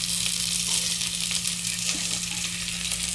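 Onions and garlic sizzle steadily in a frying pan for chicken tinola, a dense, continuous frying hiss close by with a low steady hum underneath and no talking.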